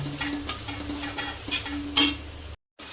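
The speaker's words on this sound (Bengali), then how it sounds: "মশলা আর পেঁয়াজ ভাজা ভাজা হয়ে গেছে" Spice paste and onions fry in oil while being stirred, giving a steady close sizzle with periodic scraping strokes, followed by a brief gap of silence.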